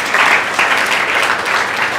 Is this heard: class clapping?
yes